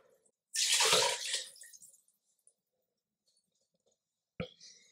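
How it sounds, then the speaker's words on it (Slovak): Water poured onto sautéed vegetables in a pot while making a pea cream soup: a loud, close splashing and sizzling burst lasting about a second and a half, then near silence and a short clatter at the end. "tak ju podlejeme vodou"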